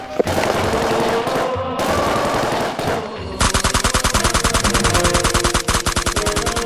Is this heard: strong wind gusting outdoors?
no